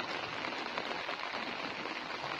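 Rain falls steadily on a rice-field fishing spot as an even, hissing patter that stays constant throughout, with no speech.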